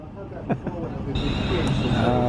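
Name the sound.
train departing from station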